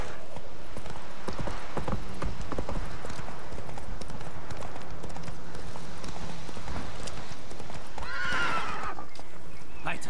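Hooves clip-clop steadily as a horse is ridden in The Witcher 3: Wild Hunt, loud and continuous, with a horse whinnying near the end.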